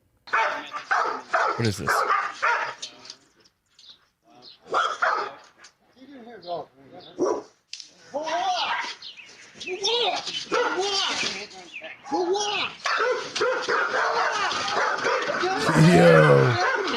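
Several large dogs bark, yip and whimper behind a flimsy fence, close and loud in repeated bursts, mixed with people talking throughout.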